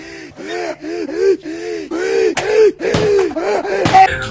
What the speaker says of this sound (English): What is up with the breathing hard?